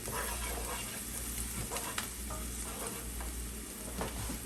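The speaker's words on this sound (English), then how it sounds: "So as you could see, I'm burning the curry in the oil." Curry powder fries in hot oil, a steady close sizzle with occasional stirring scrapes and soft clinks from the pan.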